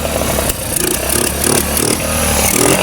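Motorcycle engine, which had been starting and then dying, started up after a carburetor adjustment; it runs loud and close with a rough, uneven idle and brief catches and dips, with no voices.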